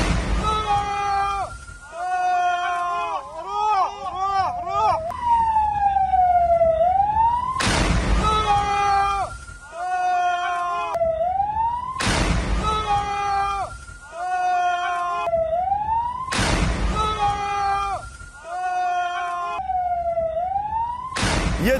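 An ambulance siren wails loud and close, cycling through rising and falling tones repeatedly, with sharp bursts between cycles and voices talking underneath, in a scene from a reported Israeli strike near the ambulance.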